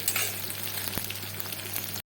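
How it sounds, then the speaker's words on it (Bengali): Chopped onions fry in oil with black cumin, producing a steady close sizzle and crackle with a low hum underneath. A single knock sounds midway, and the sizzle then stops abruptly. "এবার দিয়ে দিয়েছি পেঁয়াজ কুচিগুলো। পেঁয়াজগুলো হালকা করে ভেজে নেব"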